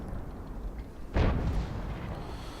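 A tank cannon fires once in World of Tanks on the Muravanka map, a single booming blast with a short rumbling tail that rises above steady background game noise.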